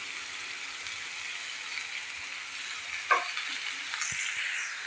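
Chopped red pumpkin and two green chillies sizzle softly in a hot pan, a quiet steady frying hiss broken by a brief clatter of stirring near the end.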